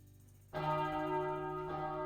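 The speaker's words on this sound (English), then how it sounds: "The bell rang, and we took our seats." School bell in the visual novel Princess Evangile, a clear ringing bell tone that starts abruptly after a brief quiet and sustains with rich harmonics, alone and fairly loud.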